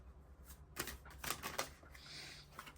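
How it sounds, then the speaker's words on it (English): Tarot cards are shuffled and pulled from the deck at close range, giving a quiet run of crisp flicks and riffling snaps in bursts, then a softer sliding rustle. "So I kind of want to pull a couple more cards here to see."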